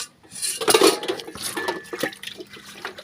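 Dishes, pots and pans being washed by hand, with steady clattering of metal utensils and cutlery against each other and splashing water, close and continuous without talk.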